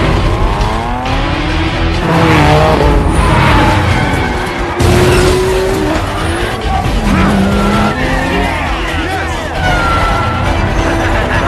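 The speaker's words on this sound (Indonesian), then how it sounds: "Sean dan Dike akan balapan di Gunung Haruna, di mana tempat tersebut adalah asal muasal terciptanya drifting" Cars racing and drifting down the mountain road at Mount Haruna, engines roaring loudly close by with repeated tire squeals and skids, shifting pitches as they pass, and a voice talking over the racing.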